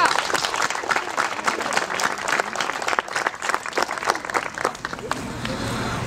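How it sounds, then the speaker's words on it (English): Audience applauding students at a school library dedication ceremony, loud sustained clapping with distinct individual claps in a room, tapering slightly at the end. "Let's give them another round of applause."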